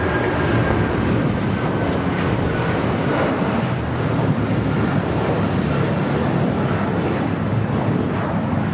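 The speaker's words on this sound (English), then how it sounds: "Have a United 757 taking off." United Airlines Boeing 757-200 taking off from LAX, a loud steady engine roar sustained throughout with no voices.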